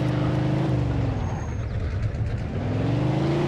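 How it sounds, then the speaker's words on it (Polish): A loud, steady car engine in the game Mafia II drones continuously, with strong low harmonics and a brief dip in pitch midway, no voices present. "Ale głośny silnik."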